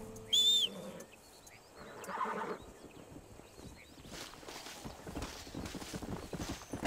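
Rhythmic hoof clops of a war horse in Red Dead Redemption, growing steadier toward the end, with a brief high whinny-like tone near the start and some faint game sounds.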